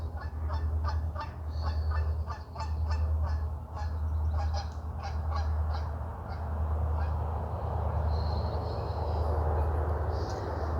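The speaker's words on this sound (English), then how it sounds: "And I can hear probably a goose." A goose honks repeatedly in a rhythmic series, somewhat distant, over a constant low rumble.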